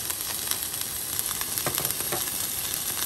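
Chicken pieces sizzle steadily in a hot pan while being cooked for fried rice, a dense, continuous frying hiss with small crackling pops throughout, close and alone with no voices.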